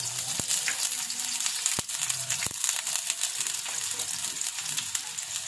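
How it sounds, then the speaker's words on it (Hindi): Chopped onion frying in hot oil while cooking chicken aloo masala, a steady dense sizzle and crackle throughout with a few sharp stirring clicks and clatters. "तेल गर्म हो जाए तो प्याज जल्दी फ्राई हो जाते हैं।"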